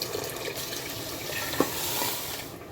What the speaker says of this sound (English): always rinse the blender with water and then pour it into the soup